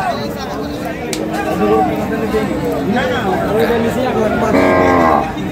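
Sahiwal breed bulls low loudly at a busy village cattle market, several drawn-out moos rising over a constant babble of buyers and sellers talking close by.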